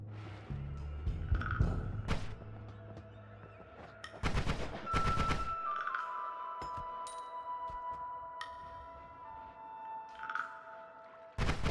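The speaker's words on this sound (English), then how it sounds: "Why was that bomb explosion so big?" Explosions from a bomb in the PC game Noita: several sharp, loud blasts and crackling bursts, each followed by a lingering electronic ringing tone and ambient rumble, with no voice.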